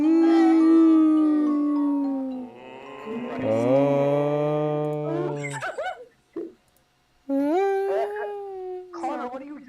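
A two-headed dog Halloween prop lets out long electronic howls, loud and close, in two drawn-out phrases with a short pause between, and voices talk over the sound.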